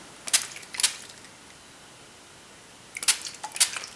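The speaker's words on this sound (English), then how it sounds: "I think I need to spray a little bit right there" Two quick bursts of a spray bottle spritzing water onto a watercolor painting, then a pause, followed by a couple more short sprays, close by in a quiet room.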